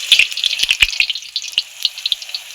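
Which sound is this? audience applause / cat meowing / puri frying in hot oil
puri frying in hot oil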